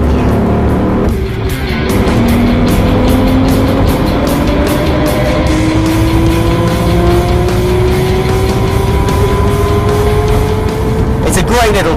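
A children's ride-on car drives along with a loud, continuous motor whine that climbs steadily in pitch as it gathers speed, with a rough rumble and rattle underneath throughout.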